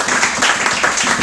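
Church congregation applauding during a service, a dense wash of clapping, loud and close, steady for the whole short stretch.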